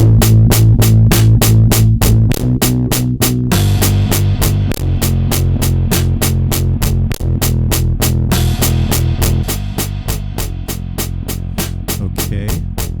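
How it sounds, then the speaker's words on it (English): Compressed bass part played on an MPC One in a goth-inspired song, a steady dense groove of bass notes under a tight, fast ticking hi-hat pattern, loud and continuous with no speech. "Okay, got the bass set up going into channel 2."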